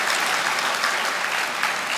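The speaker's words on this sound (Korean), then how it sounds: "다시 한번 힘찬 박수 한번 보내주십시오" Members at a construction workers' union general meeting applaud together, a dense, even roar of clapping that fills the hall.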